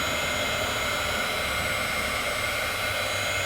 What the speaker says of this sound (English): a little heat tool that she uses for crafts, and going to heat this probably for about 5 minutes, just to, like I said, loosen the adhesive